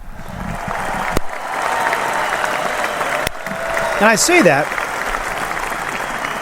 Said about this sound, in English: those guys always get a big round of applause